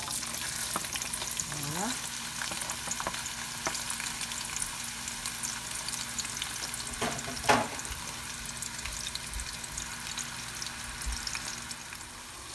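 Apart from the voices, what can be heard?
onions frying in oil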